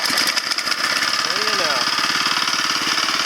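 A small fertilizer pump engine, choked and set at about half throttle, runs steadily with a loud, even, rapid chugging rhythm close by throughout, while a person talks over it.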